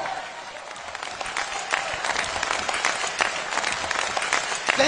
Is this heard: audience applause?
yes